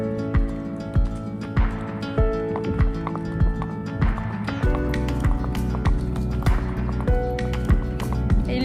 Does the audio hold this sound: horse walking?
yes